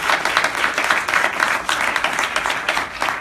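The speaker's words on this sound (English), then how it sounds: "Let's give our panel a great round of applause." A panel discussion audience applauds its panelists with steady, dense clapping that holds at an even level for the whole stretch, with no voices on top.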